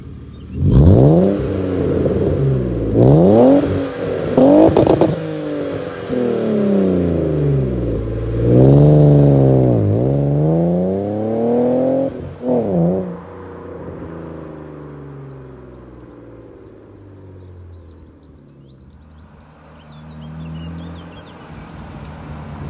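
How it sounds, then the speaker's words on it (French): A car accelerates hard along a straight, heard from outside. The engine rises in several loud, climbing revs as it shifts up through the gears, then the sound recedes into a fading, distant drone with some faint clatter. "Ça te dit de faire une petite accélération sur cette ligne droite, t'entendre un petit peu?"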